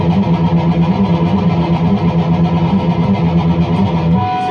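A simplified version of a riff played on heavily distorted guitar at 250 bpm, steady rapid eighth-note chugging that drives on without a break, loud and close, before stopping abruptly near the end.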